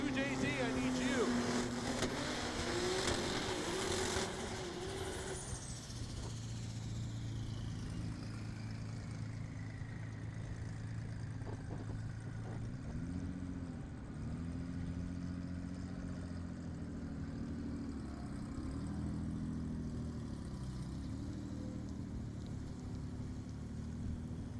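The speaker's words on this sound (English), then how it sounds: "here comes your next 2 cars" Drag racing cars idle and creep toward the lanes at Texas Motorplex, a low rumbling engine drone with some throttle blips, while an announcer's voice calls out over the track PA.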